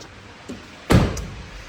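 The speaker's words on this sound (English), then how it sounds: "I'm just going to open this door for a bit of airflow." The door of an FG Ford Falcon XR6 is opened with a single sharp unlatching clunk and thump. A faint click comes just before it and a brief rattle follows, all heard close in a quiet setting.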